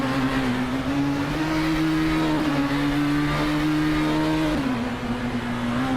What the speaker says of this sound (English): the race kicks off at Bridgehampton with Hingle McCringleberry on pole, driving a 2018 R Engineering BR1 in the LMP1 class